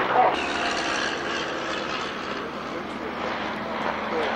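A vintage propeller aircraft passes at the 1995 Shuttleworth Collection pageant airshow, its engine a distant steady drone beneath a commentator talking over the loudspeaker.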